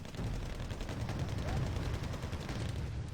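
Artillery barrage in the Wargame: Red Dragon strategy game, a dense, continuous roll of booming blasts and crackling gunfire that holds loud and steady for about three seconds.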